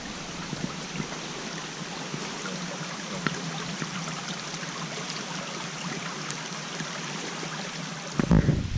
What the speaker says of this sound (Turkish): Ve Nazlı Gölü akıyor.